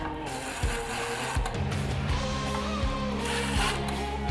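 Screws being driven to mount grille letters on a Toyota 4Runner Pro grille, with steady mechanical whirring and repeated ratcheting clicks at close range, no talk.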